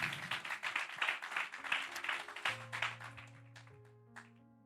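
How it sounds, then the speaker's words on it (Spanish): A church congregation claps together in steady, dense applause, moderately near, then thins into a few scattered claps and fades out. "Dar un aplauso al Señor."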